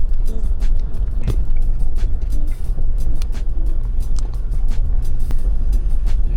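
A car drives along steadily on a village road heading down toward the Dniester riverbank, its engine and tyre rumble loud and continuous, with occasional small knocks and rattles from the road surface.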